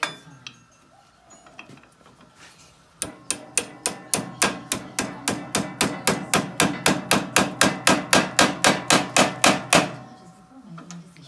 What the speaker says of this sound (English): we'll just hammer it down a little bit more.